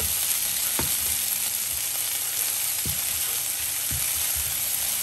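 Chili and garlic stir-frying in a hot pan, a steady broadband sizzle running throughout with a few sharp clacks of a spatula against the pan, close and alone with no talk.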